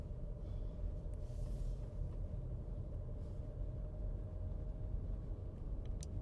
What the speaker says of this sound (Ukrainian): Мотор працює ідеально.